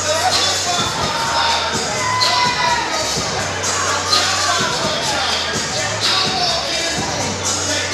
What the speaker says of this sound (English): I feel like you're going to see this Columbus crowd come to life here.